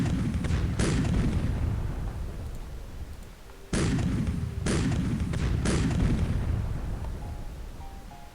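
Panzer tanks attack in battle in Civilization III, with a series of heavy booming blasts and rumbling explosions repeating at irregular intervals over a continuous loud roar of combat.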